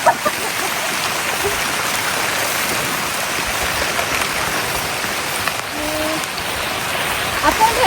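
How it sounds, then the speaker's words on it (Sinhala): Heavy rain pours steadily over a paddy field beside a flower farm, a dense, even hiss of drops that holds for the whole stretch, close and unbroken. "එන්න මම වැස්ස ඔයගලන්ට පෙන්නන්නම්"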